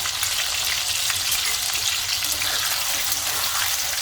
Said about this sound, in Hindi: तेल हमारा गर्म हो चुका है, इसमें डाल देंगे आलू, धुले और कटे हुए आलू